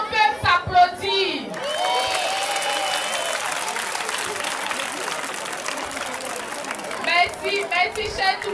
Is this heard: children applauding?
yes